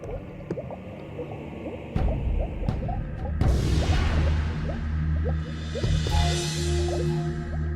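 Water from a large river rushes steadily, with gurgles, drips and splashes. It starts quieter, then swells into a broad, continuous wash from the middle of the clip onward.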